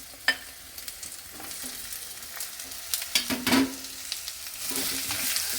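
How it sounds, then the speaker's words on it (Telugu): Ivy gourd and peas fry in a pan with a soft continuous sizzle, broken by scraping stirs and clinks of a spoon, close and fairly quiet. "తర్వాత దొండకాయలు వేస్తున్నానండి."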